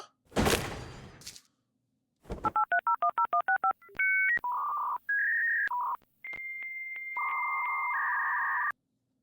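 Telephone keypad tones: a quick run of short DTMF beeps, then several longer steady dial tones, loud and clear with no talking, after a brief burst of noise at the start.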